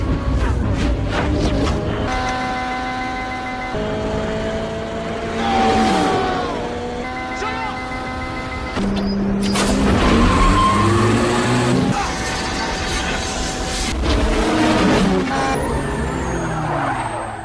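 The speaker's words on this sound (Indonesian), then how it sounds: "Dominic terlihat mendominasi balapan sampai kemudian Brian nekat menggunakan gas NOS-nya secara penuh yang justru membuat mobilnya rusak" Race cars in a Fast and Furious street-race scene, with NOS in play: engines rev loudly in rising and falling bursts, and tyres skid between the gear changes.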